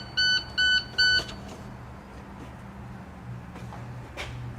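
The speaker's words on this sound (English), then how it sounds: "Got to find a way to kill that beep." Three short, evenly spaced electronic beeps sound from a warning alarm inside a truck cab, fairly loud and close, followed by a quiet cab hum and light handling noises.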